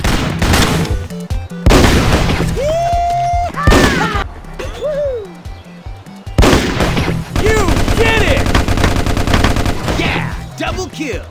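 Rapid bursts of video game gunfire crack loudly in the foreground, firing in short volleys separated by brief pauses, while an excited voice cheers over the shooting.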